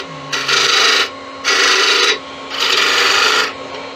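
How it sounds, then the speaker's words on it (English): A wood-turned honey dipper with a stainless steel part is sanded on a spinning lathe, making three loud, close raspy bursts of abrasive friction separated by short gaps, with a faint steady motor hum underneath. "I am staying slightly proud of that so that I can sand that"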